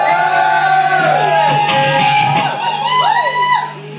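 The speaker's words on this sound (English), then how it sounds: "I'd like to hear a fucking cheer for the possible mystery cover." A concert crowd at a show shouts, whoops and cheers loudly and continuously, with individual yells rising above the mass of voices.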